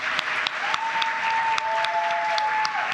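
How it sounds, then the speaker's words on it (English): At a live community crowdfunding event, an audience gives the finalists a round of applause: sustained crowd clapping with a few sharper individual claps standing out, and a thin steady electronic tone humming faintly underneath. "Let's do one more round of applause for each one of them."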